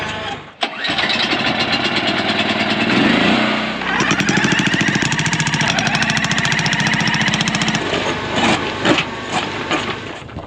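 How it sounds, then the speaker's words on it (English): A jackhammer starts up and pounds away loudly at rock in a rapid, steady rhythm, pausing briefly before hammering on, close by. "So we brought a jackhammer. I think it's jackhammer time."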